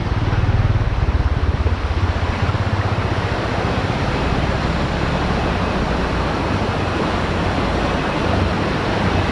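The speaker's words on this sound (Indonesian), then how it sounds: "Tuh, sungai ya." A river flows beside a remote village at the forest edge near rice fields, producing a steady, dense rushing wash that stays loud and constant from start to finish.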